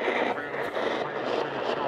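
A garbled, warbling single sideband radio signal on 6604 kHz shortwave with a muffled voice-like quality, steady and continuous, heard on a receiver lacking SSB capability.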